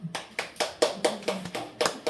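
Slow, evenly spaced claps from a small group at a lecture, about nine sharp hand claps in a steady rhythm, close and distinct with quiet gaps between them.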